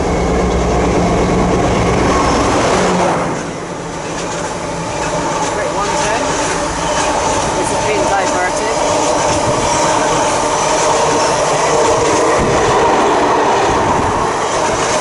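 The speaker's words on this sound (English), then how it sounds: "about to pass through now, it's going to be a class 60 with a steel tank train" A Class 60 diesel locomotive hauling a steel tank train passes a platform at Filton Abbey Wood, loud and close, with a steady roar of engine and wagons, rhythmic wheel clatter and faint squeal throughout.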